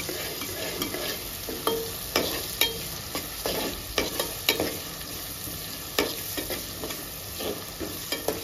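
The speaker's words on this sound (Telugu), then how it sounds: "తర్వాత ఎండుమిరపకాయలు కూడా వేసుకోవాలి." Dried red chillies fry in a pan for a methi mutton curry, a faint hiss punctuated by frequent sharp clicks and scrapes of a spatula stirring, close and quiet, without speech.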